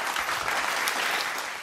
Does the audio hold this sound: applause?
yes